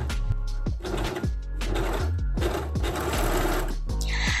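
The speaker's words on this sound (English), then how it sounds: "stopping at the slit notch, and then we serge the seam allowance" A serger stitches the seam allowance of an off-shoulder dress in short, rapid mechanical bursts with brief stops between runs, close and clear.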